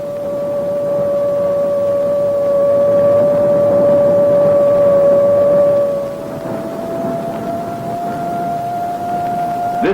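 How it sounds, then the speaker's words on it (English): A moving Jeep picked up by an AN/PPS-5 ground surveillance radar, heard as a steady, droning audio tone over a hiss of static. The pitch shifts slightly partway through and then holds. "from the audio tone in his headphones, the operator recognizes that this is the characteristic sound of a moving Jeep"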